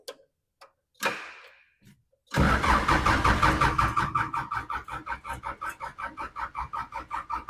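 Old skid steer with freshly tightened injector lines, left sitting for many years, cranks briefly, pauses, then the starter turns it over loudly in a steady rhythmic churn of repeated compression pulses, close and alone.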